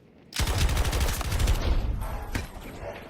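A sustained burst of rapid automatic fire from the DFR Strife LMG in Battlefield 2042, loud and close, lasting about two seconds before a final sharp shot.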